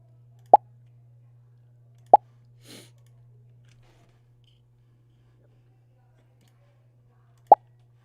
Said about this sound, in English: Press play, and then you should hear a pop sound.